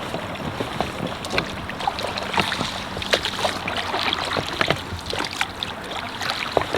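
Small boat being paddled at low tide, with close irregular splashes and knocks of the paddle over steady wind noise, and no talking.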